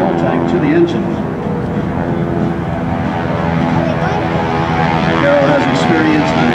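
A wing-walking biplane's engine and propeller drone steadily through an airshow routine, a constant throaty hum with shifting pitch as it maneuvers, with a commentator talking over it.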